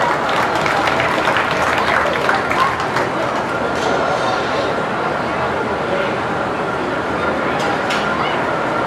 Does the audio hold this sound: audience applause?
yes